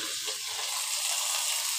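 Mustard and poppy seed paste dropped into a pan of frying tomato and potato, a loud, steady sizzle with a few soft stirring scrapes near the start.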